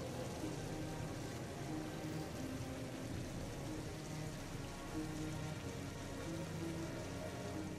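Steady rainfall patters in the Heavy Rain game menu, a quiet, dense hiss of drops on surfaces with a low rumbling bed underneath, unbroken and without talk.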